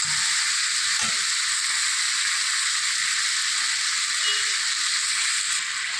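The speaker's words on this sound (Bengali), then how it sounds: "দেখো আমার মাংস ভালো মতন কষানো হয়ে গেছে তেল বেরিয়ে গেছে" Young duck meat sautéing in oil until the fat separates, a constant close sizzle with a brief stirring scrape near the start, then an even hiss with no voices.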